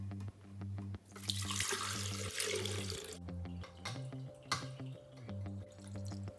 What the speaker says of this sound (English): we're going to strain it back into the blender for another blend